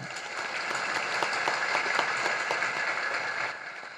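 An audience at a religious discourse applauds, a dense steady wash of many hands clapping that holds at even loudness for the whole stretch before easing slightly at the end.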